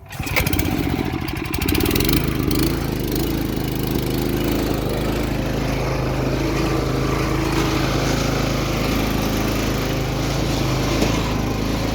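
Riding lawn mower engine cranking and catching, then running at a loud, steady, rumbling drone close by for the rest of the stretch, with no voices over it.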